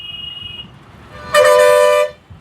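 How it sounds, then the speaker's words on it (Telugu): A loud, oversized horn fitted to an auto rickshaw blares once in a sustained blast of under a second, close and harsh, after a brief fainter tone. "ఈ హార్న్లు ఎందుకు బిగించారు? బిగించకూడదు కదా."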